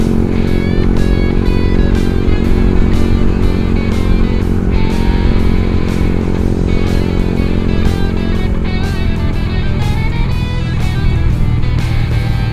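A Yamaha R15 v2 motorcycle fitted with a racing exhaust rides along, producing a loud, continuous, bassy engine drone with steady tone and small rev changes throughout, heard close without talk.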